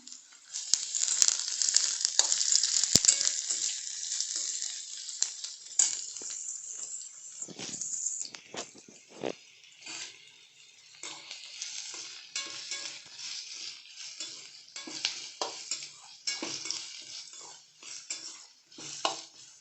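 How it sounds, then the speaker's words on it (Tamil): Chopped onions sizzle and fry in hot oil for tomato chutney, with a steady crackling hiss that is loudest early on and broken by clinks and scrapes of a spoon stirring the pan. "வெங்காயம் நல்லா வதங்கி கோல்டன் ப்ரௌன் ஆகணும்"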